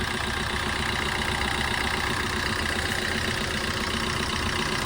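A 2015 Maruti Suzuki S-Cross idles with its engine running steadily, a loud, close, continuous mechanical hum and low rumble with faint ticking, holding an even level throughout and no one talking.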